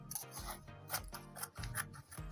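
Scissors snipping through fabric while cutting out a no-side-seam kaftan dress: a quiet series of short, crisp clipping strokes in an irregular rhythm, close by, with no talking.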